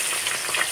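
Fish pieces, including a fish head, fry in hot oil in a kadai, a close, continuous bright sizzle with small crackling pops.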